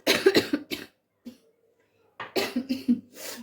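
Two bursts of harsh coughing close to the mic, separated by a quiet pause with a faint hum, the second burst longer and repeated.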